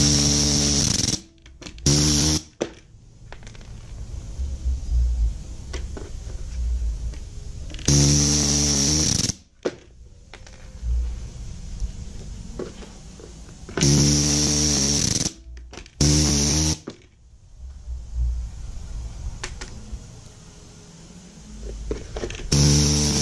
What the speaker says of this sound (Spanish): Pueden poner los rivets a mano. Yo estoy usando esta máquina para darle.